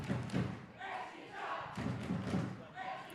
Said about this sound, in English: The crowd get the chant going